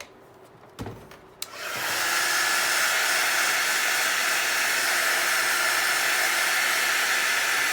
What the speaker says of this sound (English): I'm going to hit it with my heat gun just to speed things up